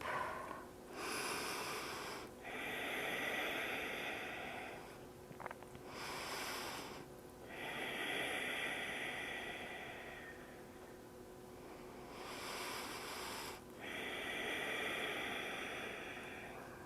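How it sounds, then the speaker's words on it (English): Slow, deep breaths during a vinyasa yoga class, each long airy inhale or exhale rising and fading in turn, several cycles heard close and soft with no talking. "Breathe deep."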